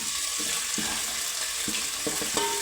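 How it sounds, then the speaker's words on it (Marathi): Spice masala with turmeric and onion sautéing in a pan over a low flame, a continuous close sizzle broken by several sharp scraping stirs of a spoon, with no voices. "हा मसाला थोडासा कमी गॅसवरच परतून घ्यायचा"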